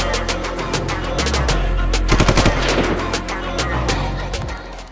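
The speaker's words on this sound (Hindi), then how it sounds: "ताबड़तोड़ फायरिंग चालू कर देता है" Rapid gunfire from shooters as a dramatized sound effect: a fast, loud train of sharp shots repeating almost without pause, layered over a low rumbling background with no voices.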